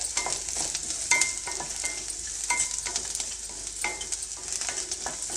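Onions frying in a pan give a steady, bright sizzle with soft scrapes of stirring throughout, close and fairly loud, with no voices.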